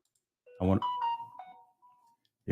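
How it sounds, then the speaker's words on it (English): A phone gives a short text-message alert, a close, clear electronic chime of a few tones that quickly fade into quiet. "my phone just received that text message"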